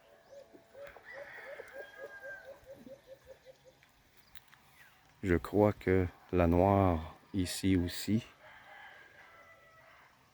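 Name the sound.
Green Egger chickens clucking and crowing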